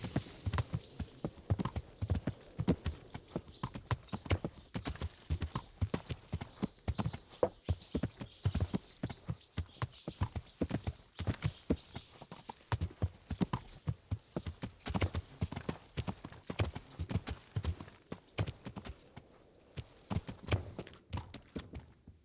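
Horse hooves clip-clopping at a steady walking rhythm, close and clear, as a rider approaches a horse trader's in Kingdom Come: Deliverance; an occasional snort or whinny rises over the hoofbeats.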